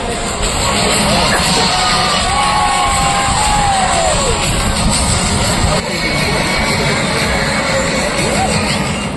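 Eight Indian Air Force Surya Kiran jets pulling up in formation at a 2025 air show, a loud, steady jet roar filling the whole stretch with a crowd cheering faintly beneath it.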